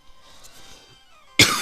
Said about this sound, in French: Je tousse un peu, mais c'est bon.